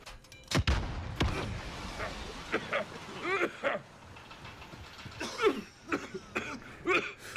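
Several rough coughs and throaty rasps come in short bursts, interspersed with odd squeaky, quacking vocal noises.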